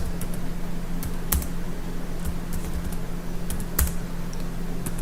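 React Native code is typed on a computer keyboard with scattered, fairly sparse key clicks and a few sharper taps over a steady low fan hum, close and without speech.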